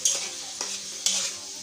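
Close sizzling of onion paste and spices frying in a pan, with three distinct stirring scrapes bringing brief louder hisses over a low continuous fry.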